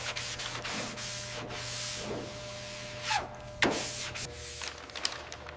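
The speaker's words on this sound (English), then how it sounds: "Wet sanding. We're chasing a reflection now." Wet sanding the guide-coated body paint of a restored Dodge car, a steady close rubbing scrape with repeated strokes and brief louder swipes, alone without talk.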